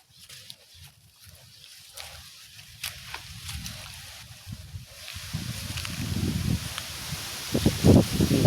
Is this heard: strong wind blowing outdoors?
yes